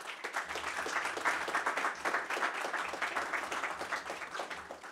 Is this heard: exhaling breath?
no